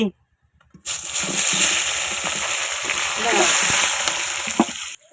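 Bay leaf and tomato hit hot oil in a pan of fish curry with potato. After a second of quiet, a loud hissing sizzle bursts out and then crackles on steadily and close, with occasional stirring knocks.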